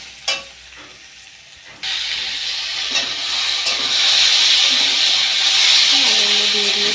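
Potatoes and onions frying together in a wok, a loud steady sizzle that jumps up as the potatoes drop in and keeps hissing close by, with some stirring scrapes.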